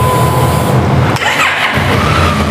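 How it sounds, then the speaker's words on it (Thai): Honda Africa Twin 2018 motorcycle engine on a stock exhaust, a close, loud steady running note broken by a brief dip, then firing back up into a rumbling idle. "เดี๋ยวขออนุญาตสตาร์ทรถให้ฟังเสียงกันเลยนะครับผม"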